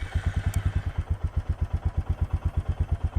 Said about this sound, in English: we might as well start the bike and run it for you